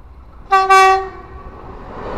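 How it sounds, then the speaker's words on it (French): A TER Picardie regional train at level crossing PN 26 sounds a loud, harmonic two-tone horn blast lasting about half a second, then rolls on with a low, steady rumble of wagons. "C'est un TER Picardie"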